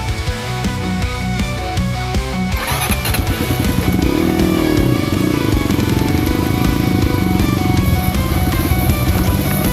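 Dirt bike motorcycles push through an overgrown, tightly closed-in trail, engines loud and close, revving and rising in pitch as they labor through the brush.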